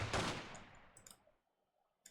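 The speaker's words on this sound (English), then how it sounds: "I heard a couple of shots go off. 2, I think. 2 gunshots." Two gunshots go off almost together in The Great Ace Attorney Chronicles, a sharp loud burst that quickly fades, followed by a few faint clicks and tones.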